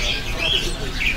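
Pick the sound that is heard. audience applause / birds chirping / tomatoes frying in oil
birds chirping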